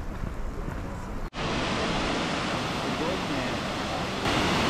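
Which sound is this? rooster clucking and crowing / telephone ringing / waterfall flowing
waterfall flowing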